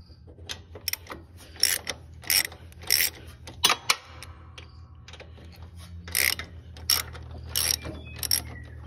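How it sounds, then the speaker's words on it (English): Wrench clicking as bolts are loosened on the engine mounting plate of a Cub Cadet during an engine removal, heard as close, irregular bursts of ratcheting metallic clicks with short pauses between them. "Let's loosen up this other bolt."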